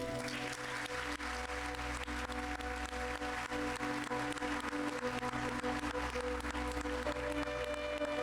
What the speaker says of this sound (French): Je vous demande d'applaudir Monsieur Abdel Raouf Dafri.